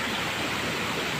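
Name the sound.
mountain river flowing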